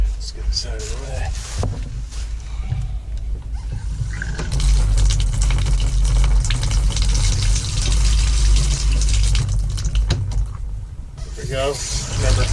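Water running steadily from the shower of an RV travel trailer during winterizing, a continuous close hiss and splash with a pump-like hum underneath and a person talking over it.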